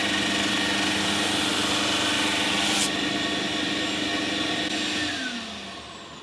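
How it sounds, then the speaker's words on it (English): A drum sander runs steadily while thicknessing a guitar back, giving a loud continuous close whine with a brief sharp scrape as the wood passes, then winding down near the end. "the drum sander's now touching this"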